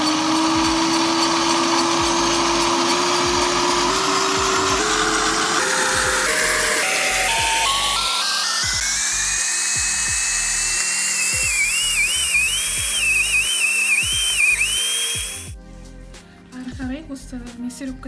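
An electric meat grinder mincing frozen oranges with their peel, its motor whine rising steadily in pitch as it runs loud and continuous, then cutting off near the end.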